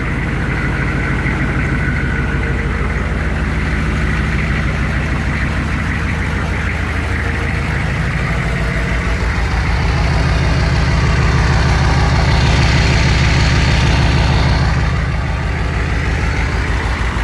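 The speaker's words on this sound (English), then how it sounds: "You can hear this factory exhaust." A truck's 6.5 engine idles steadily through its factory exhaust with a deep, rumbling drone, loud and close, holding an even rhythm throughout with no talking.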